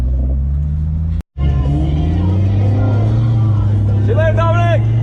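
A Maserati MC Stradale cruises on the road home, its engine and tire roar a steady low drone with a brief cut near the start, while a person talks over it.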